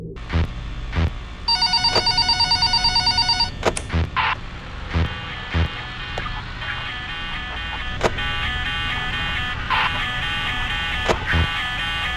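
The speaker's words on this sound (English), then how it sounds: "we get this strange phone call" In a Five Nights at Freddy's fangame, a telephone rings with a loud trilling burst, followed by clicks, thumps and electronic tones over a low hum.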